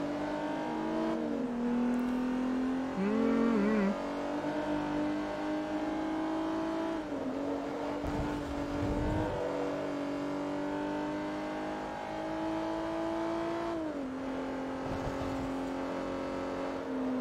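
A Renault Turbo races in Forza Motorsport 3, its engine droning steadily and rising in pitch through the gears, with short drops at each shift and a few louder thumps, heard alone without talk.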